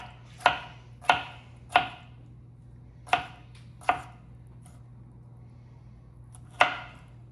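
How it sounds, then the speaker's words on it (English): A knife chops through sandwich pickles on a cutting board in six sharp, separate strikes, a quick group of three, then two more, then a lone final chop after a pause, close up and clean with no talking. "now we're gonna cut some pickles"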